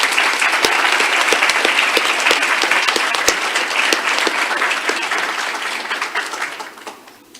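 A big round of applause from an audience at the UAB School of Nursing Nurse Anesthesia Recognition Ceremony, Spring 2024, loud, dense and steady, with sharp individual claps standing out before it gradually fades at the end.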